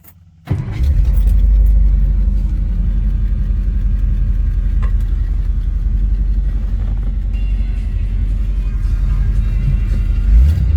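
A 1960 Ford Thunderbird Sport Coupe engine starts and settles into a steady, loud, close idle with a deep rumble, holding even throughout with a slight swell near the end.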